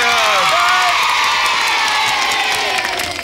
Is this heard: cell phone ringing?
no